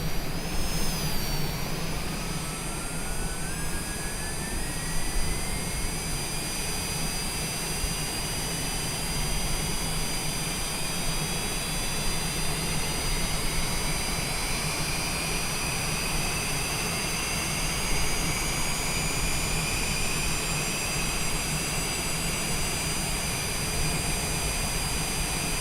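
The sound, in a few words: Citation Longitude jet engine starting, flight simulator video game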